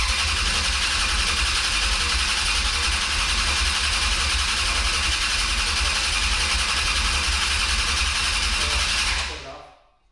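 A big-block Dodge engine roars loud and steady right up close for about nine seconds, then cuts off abruptly.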